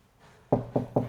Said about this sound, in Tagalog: Katok tayo.